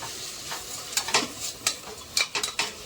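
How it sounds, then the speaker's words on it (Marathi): Spices and biryani masala being stirred and dry-roasted in a pan for vegetable khichdi, a series of close spoon scrapes and clinks in an irregular rhythm over a faint sizzle, with no voices. "आता हे सगळं टाकून मिक्स करून घेऊया आपण."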